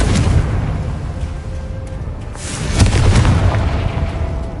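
Confringo spell explosion in a Harry Potter video game, with a deep rumbling boom that swells and rolls on, loud and close, and a brighter burst near the middle.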